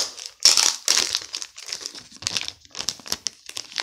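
Foil pack of Sandy Koufax baseball cards being torn and crinkled open, a close, loud run of crackling rips and crunches in irregular bursts with no talking.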